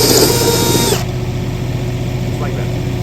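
A 3-inch hole saw on a power drill bores a hole for a channel drain, a loud high whining grind for about a second that then stops, leaving a low steady hum.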